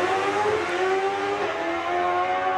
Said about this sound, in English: Engine just changed note, and not in a good way actually when he kicked it into 3rd gear